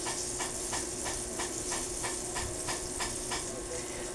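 Eggplant sizzles while frying in hot oil, a dense, steady crackling hiss with faint rhythmic pops throughout.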